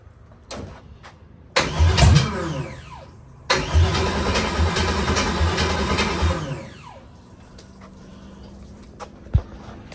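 A 6.0-litre LQ9 V8 cranks and fires for its first start-up with a leaking fuel pressure regulator, catching in a loud burst, dropping out briefly, then roaring again for several seconds before settling to a quieter idle.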